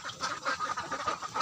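Ducks quack in a steady rapid series of nasal calls, fairly close and clear, near a pond beside a duck house, with no talking over them.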